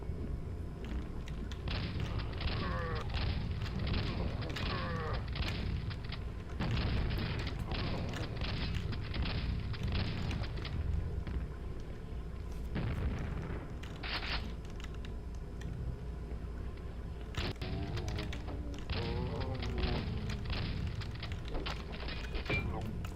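Rocket explosions from Quake 1, played on Nightmare mode in the Arcane Dimensions mod, thump and boom repeatedly through a dense, continuous wash of game noise.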